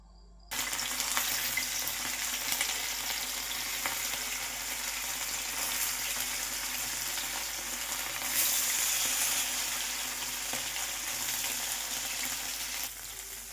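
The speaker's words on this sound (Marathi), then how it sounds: "तर आता आपण हे फिश तव्यामध्ये टाकणार आहोत." Fish fries in oil on a tava over a medium flame, a dense, even sizzle that runs steadily and fairly quietly with no talk.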